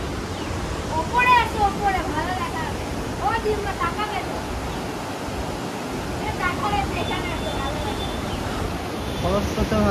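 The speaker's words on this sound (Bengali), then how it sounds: "খরস্রোতভাবে বয়ে চলেছে জলটা, পুরো খরস্রোতভাবে।" Dam-released water rushes through a channel between hills at Mukutmanipur, Bankura, making a steady broadband roar with surf-like texture that runs throughout, close and loud, while people talk over it.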